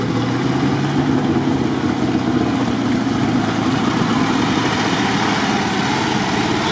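A GAZ-66 off-road truck engine runs loudly and steadily close by, a constant rumbling idle with no voices.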